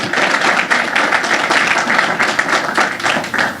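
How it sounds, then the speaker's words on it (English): Sustained applause for Buffalo Mayor Byron Brown at a public event, dense steady clapping from a large crowd with no speech over it. "Let's give him another round of applause, Mayor Byron Brown."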